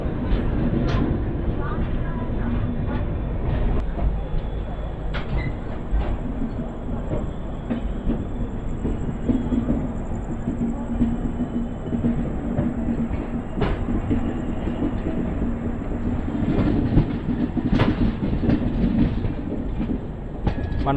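The Simhapuri Express pulls out of Secunderabad railway station: a continuous, loud rumble of rolling carriages with occasional clicks and clanks from the wheels. A few scattered voices are faintly audible beneath it.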